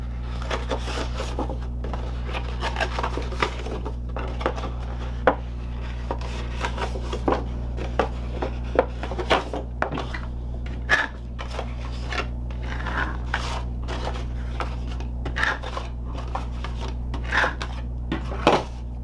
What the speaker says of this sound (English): For our envelope, we're going to fold and burnish along the score lines.